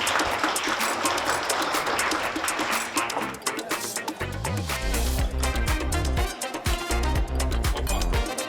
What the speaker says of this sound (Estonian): teeme talle suure aplausi